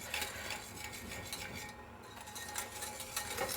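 Hollandaise of egg, butter and vinegar whisked constantly in a bowl, giving a soft, continuous swishing with faint rhythmic strokes of the whisk against the sides.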